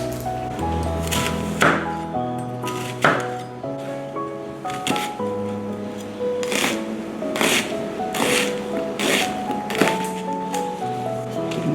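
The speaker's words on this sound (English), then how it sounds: "We're not going to grate this half of the onion. We're just going to chop it." A knife chops half an onion on a small chopping board in a series of sharp, close knocks, irregular at first, then settling into a quicker rhythm of evenly spaced chops, with soft kitchen hum underneath.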